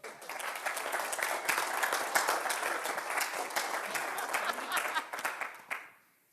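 Spectators at a 2010 speed debate night clap to vote for a team, sustained loud crowd applause with faint voices mixed in, tapering off sharply near the end.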